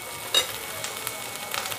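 A wet paste of onion, coconut and poppy seeds fries in a heavy-bottomed kadai over low heat, giving a soft, steady sizzle with a few sharper crackles. No one speaks.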